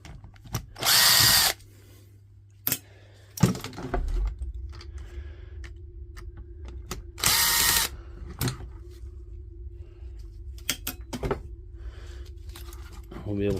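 A power driver backs out two T20 Torx screws from a DeWalt tool under repair, two loud high whirring bursts with clicks and clatter of parts in between, and someone talks quietly.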